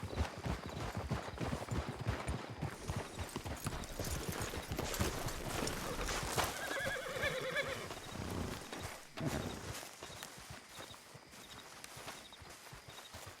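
Horses in Red Dead Redemption 2 clip-clop steadily and whinny as riders dismount, a dense continuous patter of hooves with a clear neigh in the middle, fairly loud and close with little talk.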